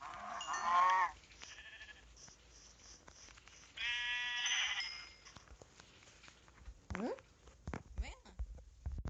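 Sheep in a survival video game bleat in two clear, loud calls a few seconds apart, followed by scattered shorter animal cries and rustling, while a person speaks throughout.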